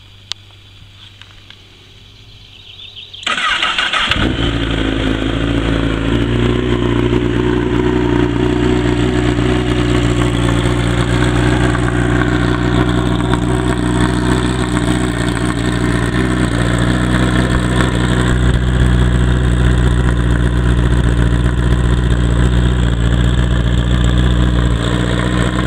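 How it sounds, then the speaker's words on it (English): A 2008 Honda CBR1000RR Fireblade with a baffled Racefit exhaust is quiet at first, then fires up abruptly and settles into a loud, steady, close-up idle that burbles on without revving. "I'll just start her up for you. Now the exhaust sounds absolutely gorgeous, but believe it or not, there is a baffle in this at the moment."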